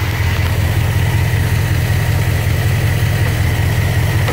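A 1971 Ford F250 pickup's 360 V8 idles steadily up close during a tune-up, a loud, even low rumble with a fast regular pulse and no talking.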